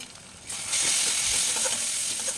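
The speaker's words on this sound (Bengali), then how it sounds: "দিয়ে ভালো করে কষিয়ে নিন" Chilli, turmeric and cumin powder hit a hot pan for Bengali shol fish kalia, and a loud, close sizzle rises after a brief quieter moment, then holds steady to the end.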